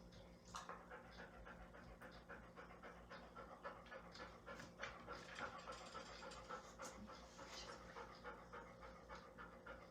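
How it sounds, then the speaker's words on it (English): A dog panting steadily during a veterinary exam, quick rhythmic breaths heard up close and fairly faint, with a low hum underneath. "So she's panting, so that makes it a lot easier to hear."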